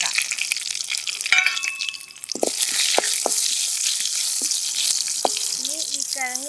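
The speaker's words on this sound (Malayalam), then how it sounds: "ഇനി വറ്റൽ മുളക് ഇതിട്ട് വറുക്കാം" Dried red chillies frying in coconut oil in a pan for kappa thalichathu, giving a continuous close hissing sizzle with a few sharp clinks of a stirring utensil and brief speech near the end.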